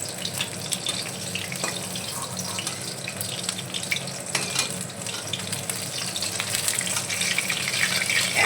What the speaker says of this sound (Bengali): আমার মাছ ভাজা হয়ে গেছে তুলে নেবো